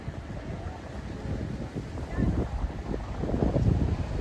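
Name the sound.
strong wind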